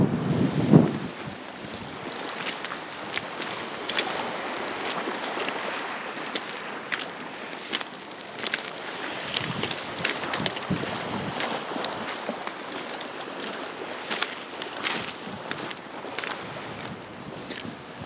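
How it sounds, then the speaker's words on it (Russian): Cold northeast wind at roughly 10 metres per second blowing on a beach at Malaya Bukhta in Anapa, a steady rushing roar with gusty microphone buffeting, plus a faint sea wash underneath. "дует холодный северо-восточный ветер"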